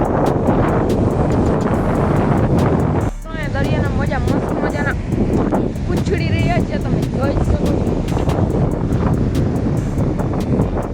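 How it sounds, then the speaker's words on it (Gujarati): Stormy sea with rough waves and strong wind at a village coast, a loud continuous roar of surf and wind buffeting the microphone, with voices talking over it. "જોઈ લો મિત્રો દરિયો ત્યારે ફૂલ તોફાની છે"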